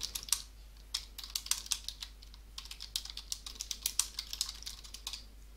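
Comments being typed on a computer keyboard, a quick irregular run of crisp key clicks with brief pauses, close and fairly quiet.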